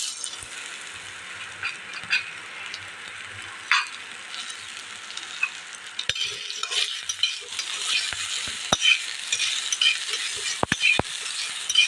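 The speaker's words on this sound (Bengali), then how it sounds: "এবার ছোট ছোট করে কেটে রাখা আলুগুলো দিয়ে দেবো।" Chopped potatoes tipped into a pan of garlic already fried golden sizzle steadily, with scattered clinks and scrapes of stirring throughout and no voices.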